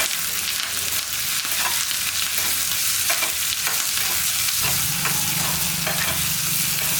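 Onions sizzle and fry in a hot pan, a steady crackling hiss with occasional scraping stirs, close and alone without talk.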